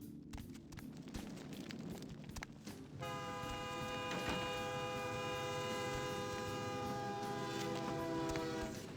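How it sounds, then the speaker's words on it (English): A train passes near a station in the video game Vampire: The Masquerade - Bloodlines: a rumbling rail passage, then a sustained tonal horn blast that holds steady for several seconds, heard alone at moderate level. "I think we're like near a train station."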